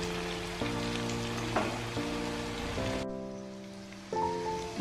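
Chilli chicken sizzles in a pan over a medium flame, a steady frying hiss that stops abruptly partway through, with tonal music playing throughout.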